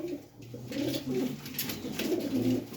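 Several pigeons coo repeatedly in low, throaty, overlapping calls, close and steady throughout, with no talking.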